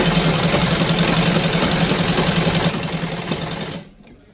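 A sewing machine stitching a salwar runs in a fast, steady mechanical whir close up, then slows and stops near the end, leaving near silence.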